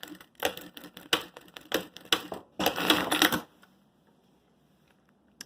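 A sewing machine stitches fabric for a makeup case in quick, uneven rattling bursts, close by, with a denser run before stopping into near silence.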